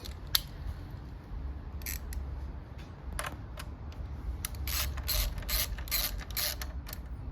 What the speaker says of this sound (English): Ratchet.